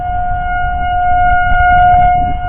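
Civil defense sirens being tested in a residential neighborhood sound out a loud, steady sustained wail that holds a constant pitch for the whole stretch.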